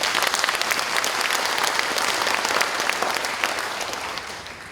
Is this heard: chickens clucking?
no